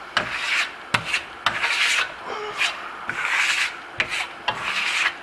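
Steel trowel rubbing wax across smooth metallic lime-based Venetian plaster (Firmolux Milano), a steady rasping scrape in repeated strokes with sharp clicks where the blade lifts and lands, close and fairly loud.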